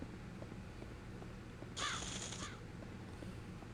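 A crow caws in the video game Clock Tower 3, a short burst of harsh repeated calls standing out over a quiet ambient game background, moderately close and lasting under a second.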